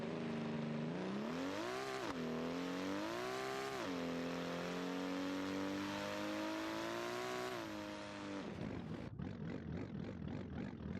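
A car engine in BeamNG.drive revs hard on a launch and climbs in pitch through several gear shifts, droning loudly and steadily, then drops into a rough, pulsing idle.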